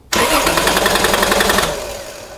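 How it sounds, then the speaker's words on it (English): A car engine cranks steadily through a 12 volt starter relay, with a loud, rapid rhythmic churning that starts abruptly, runs for about a second and a half without catching, then fades. "I'm expecting this engine to crank."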